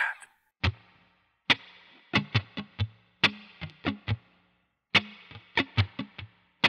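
Distorted electric guitar plays a slow, chunky rock riff in short punchy stabs with gaps between phrases, loud and close.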